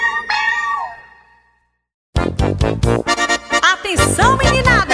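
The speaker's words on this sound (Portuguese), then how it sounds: "Do berro que o gato deu." A cat lets out a clear meow near the start, followed after a short silence by loud, busy children's forró music with singing.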